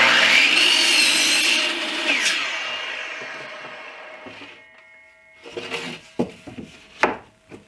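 A hand saw rasps through a wooden shelf leg in quick, loud strokes, then eases off into a few separate knocks and scrapes of wood.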